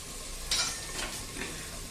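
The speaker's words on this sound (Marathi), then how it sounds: "याच्यामध्ये थोडासा कांदा थोडीशी कोथिंबीर हे सगळं छान याच्यामध्ये परतून घ्यायचं आपल्याला" Onion and chopped coriander sautéing in a pan for stuffed brinjal masala, a steady close sizzle with brief louder bursts as the mixture is stirred, no talking.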